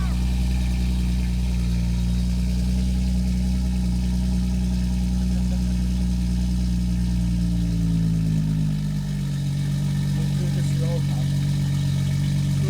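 A BMW 840i with an aftermarket exhaust (back box, downpipe and mid pipe replaced) idles with a deep, loud, steady rumble that shifts pitch slightly near the end, while people talk over it.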